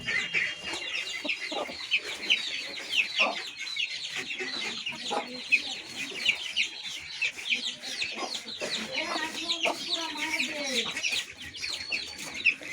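Hens clucking and a rooster among ducks and chickens in a backyard flock, busy overlapping calls and cackles close by, with occasional chirps from chicks throughout.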